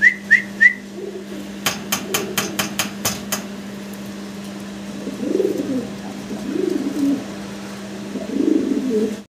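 Russian Angel fancy pigeon pair, a series of sharp taps and a faint whistle at first, then soft repeated low coos building near and steady over a constant background hum.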